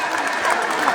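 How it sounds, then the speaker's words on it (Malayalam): Spectators at a tug of war match in Pinarayi Perumma, Thalassery, Kannur, clapping and stirring as a crowd, a brief burst of clapping and chatter with voices mixed in. "കാണികളൊന്ന് കയ്യടിച്ച ഇളകട്ടെ,"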